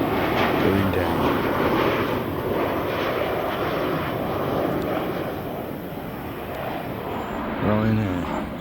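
A Ryanair airliner descending to land, heard from a footpath walk at Hampton in Arden: a steady, loud engine roar passing overhead, with a man's brief speech near the start and end.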